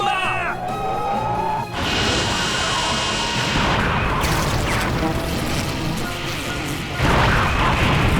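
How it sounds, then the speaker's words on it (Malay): Laser nerve cannon fire and explosions in Ultraman Z, with a rising whine giving way to heavy booms and crashing blasts in bursts, overlaid by music and voices. "Tembakkan laser Meriam saraf dengan kadar penuh."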